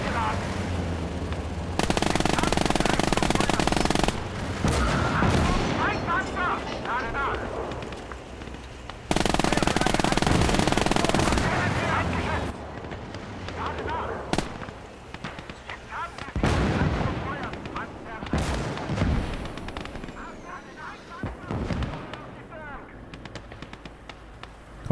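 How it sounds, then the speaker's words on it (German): Mortar impacts and rattling gunfire in the WWII strategy game Gates of Hell, with loud bursts of shelling and machine-gun fire followed by scattered sharp shots and booms while someone talks over the battle. "Das ist ein Mörser, ich fasse es nicht."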